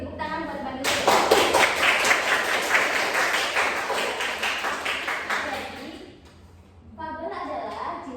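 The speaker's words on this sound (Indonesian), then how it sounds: "Beri tepuk tangan buat Manul" A class of seventh-grade students claps for a classmate in a school lesson, a dense burst of hand claps lasting several seconds before fading, with voices speaking before and after.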